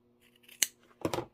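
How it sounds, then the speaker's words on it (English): Sharp scissor snips trim the seam fabric of a sewn Kimberbell roll-up pouch: one crisp close cut, then a quick double snip, heard alone in a quiet room. "So I like to trim them, double trim them just like that"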